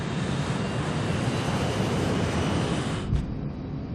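Test plane taking off down a runway, a dense steady roar of engine and rushing air throughout, loud and unbroken, with a brief thump near the end.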